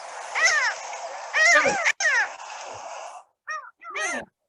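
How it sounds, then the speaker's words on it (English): A series of nasal, laughing Mediterranean gull calls rings out loudly, a few longer cries followed by shorter yelps, close and clear. "You got the Mediterranean gull."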